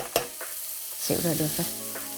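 Seasoned mushrooms sautéing in a pan for vegetarian pho, a soft sizzle with a sharp utensil tap and a brief murmur of someone speaking nearby.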